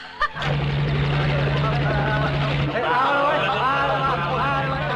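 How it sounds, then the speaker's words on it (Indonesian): A helicopter flies over a village by a river, giving a loud, steady droning whir that fills the whole stretch, with voices and other sounds layered over it. "tiba-tiba ada helikopter lewat"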